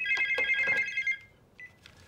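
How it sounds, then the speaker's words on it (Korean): A telephone rings with an incoming call, sounding as a quick trill of bright electronic rings followed by a shorter, fainter ring after a brief pause, with no speech. "그때 걸려온 전화"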